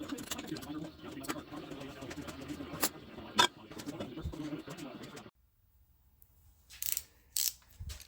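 A ratchet wrench working bolts loose, rapid clicking pawl sounds layered with mechanical clatter for several seconds, then near silence broken by a few brief bursts; bird calls are heard faintly alongside.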